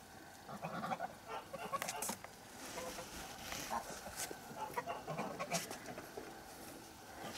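Farmyard geese honk in short irregular bursts at moderate distance, scattered across an outdoor rural background with no talk.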